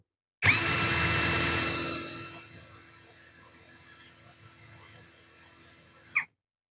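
A Kepu 20V brushless impact driver with an A3 socket runs at its second speed setting, a loud motor whine that starts abruptly, eases to a steadier hum, then cuts off with a short click.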